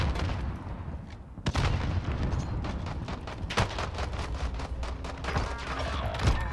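A grenade explosion and rapid gunfire in a Modern Warfare online tournament match, sharp loud shots in bursts with a booming blast and dense crackling fire throughout.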